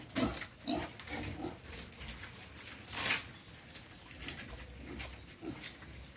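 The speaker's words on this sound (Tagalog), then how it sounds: "Buhay na mga biik." Live Quezon Black piglets squeal and grunt in scattered, overlapping bursts over roughly six seconds, close by and moderately loud with no clear speech.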